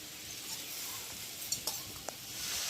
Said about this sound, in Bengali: এখন ভালো করে আলুর সাথে কষিয়ে নিই পোস্তটা।